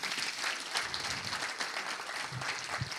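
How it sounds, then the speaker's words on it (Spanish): Sustained applause from an audience at a university event, dense even clapping at moderate volume throughout with no voices on top. "Vamos a darle un fuerte aplauso también a todo su equipo."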